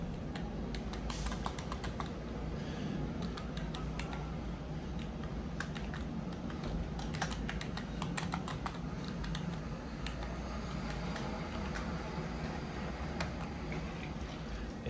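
Keys on a computer keyboard are typed in quick, quiet bursts of close clicks, spread across the whole stretch with short pauses as a root password goes in during a VMware ESXi install on a Mac Mini A1347.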